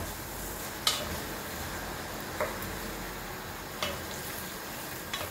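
Carrots and peppers sizzle softly in a pan, with a steady frying hiss and a few sharp clicks of the utensil against the pan spaced a second or two apart.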